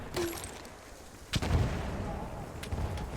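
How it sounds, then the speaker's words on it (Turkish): Bombs burst over and over in the Battlefield 1 video game, with a sharp blast near the middle followed by rumbling, booming low-end explosions and scattered gunfire. "bu da sürekli bomba spamlayıp duruyor"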